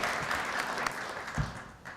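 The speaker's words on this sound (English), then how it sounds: "Let's give them a round of applause." A small chamber of commerce meeting audience claps for the project team, a soft, fading patter of scattered hands with a few louder thumps near the end.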